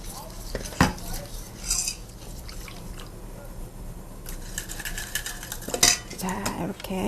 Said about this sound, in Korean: 자, 이렇게 섞으셔서 거품기로 이렇게 잘 풀어주시면 되겠습니다.